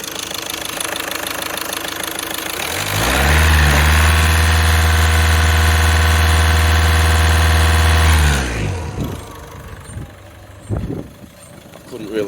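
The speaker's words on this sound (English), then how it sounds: "Increase engine speed." A VW 1.6 TDI diesel engine with a no-boost fault and flashing DPF and coil lights revs up from idle, holds a loud steady drone for several seconds, then drops back to a rough idle with some clatter.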